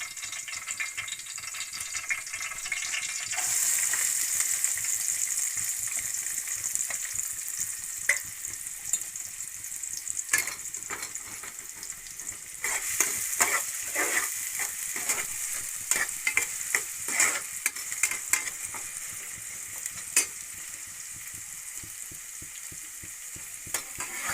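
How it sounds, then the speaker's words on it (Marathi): Steady hissing sizzle of spices tempering in hot oil for a chicken curry, with intermittent crackles and pops and occasional stirring scrapes, close and continuous. "तापला ना तेल आपण आता मस्तपैकी फोडणी करून घेऊया टाकून घेऊया"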